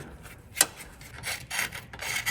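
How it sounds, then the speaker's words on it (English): Sharp scraper scraping an old gasket off a car engine surface, giving short raspy scrapes in quick irregular strokes, close and fairly quiet. "I'm trying to clean this old gasket off. I'm using my Morpsky super scraper here."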